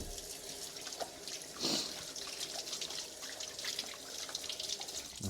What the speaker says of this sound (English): Now you're gonna wash your hands because this is like dirty and stuff